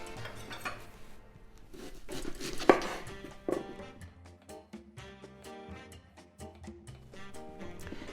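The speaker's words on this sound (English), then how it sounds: "I'll start by chopping my vegetables." A knife chops quickly on a cutting board, a steady run of sharp close taps as vegetables are julienned into strips, with no talking.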